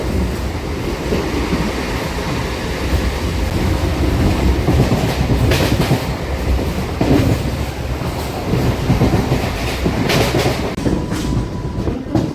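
Singareni MEMU passenger train running at speed between stations, a loud continuous rumble of wheels on rails with steady clatter and occasional brief higher rattles, no voices.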